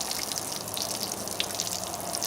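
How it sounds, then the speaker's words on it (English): Water spills over the rim of a gold panning bowl as a soft, continuous trickling wash with faint drips, steady and fairly quiet, with no voices. "If you hear that noise, my bowl is overflowing."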